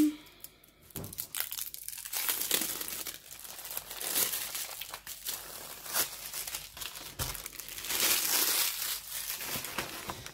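Continuous crinkling and rustling of a stiff diamond-painting canvas package being handled and pulled open close to the microphone, with scattered tearing noises.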